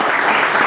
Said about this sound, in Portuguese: Vamos receber o servo de Deus com as palmas de neve.